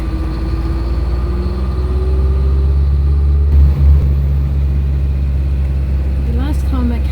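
A big tiny-house truck driving slowly up a hill, its engine giving a steady low rumble and drone throughout, with a brief louder thump midway and a short rising whine near the end.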